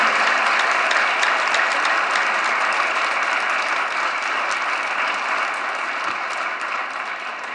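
Schoolchildren at a gathering clap together in a loud, dense, sustained round of applause that fades slowly toward the end.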